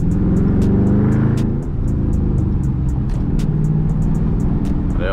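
Dodge Charger R/T exhaust in eco mode while driving, a steady low engine rumble with road noise, close and loud, the tone shifting slightly as the car moves along.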